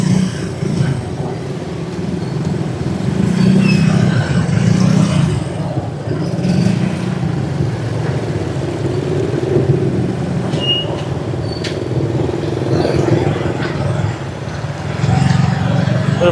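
City street traffic in the heart of a Lao city, with a continuous rumble of cars and other vehicles passing close by, swelling and fading as they go, while someone speaks over it.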